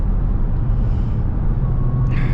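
A Dodge Charger Hellcat on the move gives a loud, close, steady engine drone under road rumble, with a faint high whine running through it and a brief brighter rise near the end; no talking.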